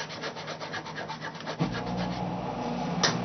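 Alcohol-soaked photo transfer paper being rubbed by hand for a scrapbook tag, a steady close scratchy rubbing in quick repeated strokes that shifts to a denser, smoother rub partway through.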